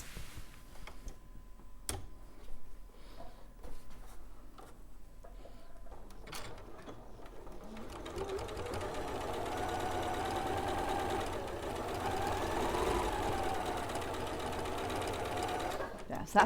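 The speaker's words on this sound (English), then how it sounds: "now I'm just going to sew directly on all of those lines" A sewing machine stitches along the diagonal lines of a Moda By The Bay quilt, starting after a few seconds of quieter handling and then running steadily and close, with someone talking at times over it.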